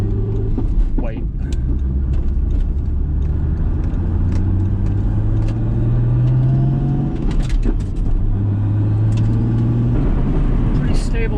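A lowered Toyota Supra cruises at highway speed at night, its steady engine drone and road rumble continuous throughout, with a brief rising whine partway through and occasional light bumps over the surface.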